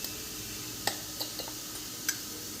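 Potato and green pea curry with black masala and onion-garlic spice mix being stirred in a pan, with a soft steady sizzle broken by a few sharp spoon clinks against the metal.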